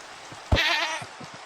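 Goat bleating in the survival video game Subdivision, one loud, nasal bleat that rises sharply and holds for about half a second, followed by faint game ambience.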